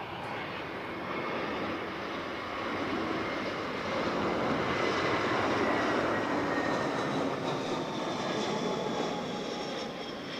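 An airplane arriving at Barcelona El Prat airport, its jet engine roar building into a loud, continuous, broad rumble that swells and holds as it passes near.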